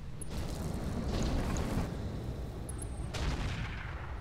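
A big cannon fires in the mech video game Roguetech: two heavy booming blasts, each with a rolling rumble that fades off, with a steady low background hum between them.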